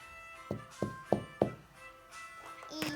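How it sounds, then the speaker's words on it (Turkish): A green ball being hit in a children's play game: four dull knocks in a quick, even row, close and fairly loud, followed by quieter rustling and a brief child's squeal. "Yeşil topa topa vurdu."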